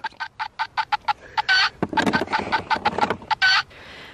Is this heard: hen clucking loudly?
yes